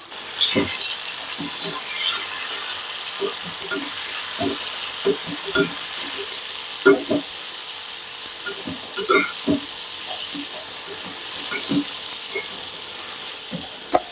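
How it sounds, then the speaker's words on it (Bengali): Garlic fries over medium heat in a pan with salt and chili powder. A steady, close sizzling hiss is broken by scattered light clicks and scrapes from stirring. "এভাবে মাঝারি আঁচ রেখে রসুনটা সেদ্ধ হয়ে যাবে এবং ভাজিও হবে, মুচমুচে ভাজি"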